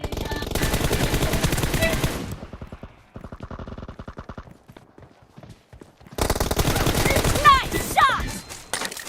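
Rapid automatic gunfire from the battle-royale game PUBG crackles in loud bursts, with a quieter stretch of single shots in the middle before heavy firing returns near the end.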